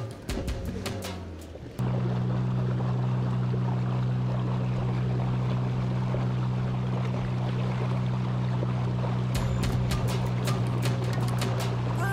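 A boat's engine drones steadily as the boat heads out from the Karli backwaters toward the open sea on the Konkan coast. The loud, continuous hum starts abruptly after a brief opening and holds constant with a wash of water noise.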